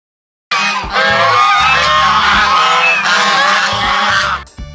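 Two domestic geese, raised on grass and water hyacinth, honk loudly and close by in a continuous run of harsh, overlapping calls that last several seconds.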